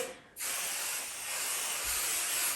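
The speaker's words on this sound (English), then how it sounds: "I'll spray the top of the quilt top, a light spray." Spray baste adhesive sprayed onto a quilt top in a light coat: a short pause, then a steady, close aerosol hiss that runs on continuously with a brief dip in the middle.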